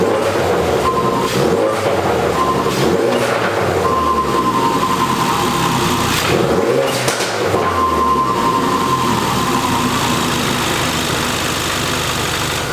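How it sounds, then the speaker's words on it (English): A Ford Focus RS fitted with a Tial blow-off valve revs repeatedly, engine swelling and dropping in several bursts with sharp hissing venting between them, close and loud throughout. "let's listen to that bypass or the blow-off valve"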